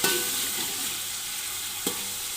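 Onions frying in ghee in a large pot for beef pulao give a close, steady sizzle, with a soft stir near the start and a sharp clink near the end. Nobody talks.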